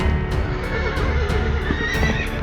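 A horse whinnies loudly and close by, a drawn-out neigh with rhythmic pulses running through it over a dense, constant background, with no talking.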